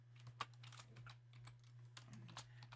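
Keys on a TI-Nspire calculator keypad are pressed in a run of soft, close, irregular clicks over a steady low electrical hum, with no talking.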